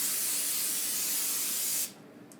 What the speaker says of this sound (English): We're going to spray out our pan so it doesn't stick.